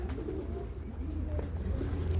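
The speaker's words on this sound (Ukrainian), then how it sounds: "Голуби." Low, soft cooing of pigeons repeats over a steady hum, fairly quiet and close, with no voices.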